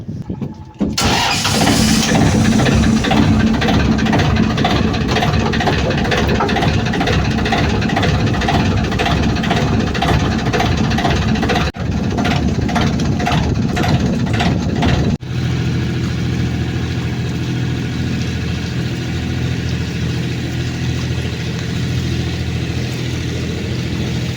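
A motorboat engine, a small passenger boat, runs steadily and loudly throughout, with a brief dip partway, then continues at a lower, steadier hum.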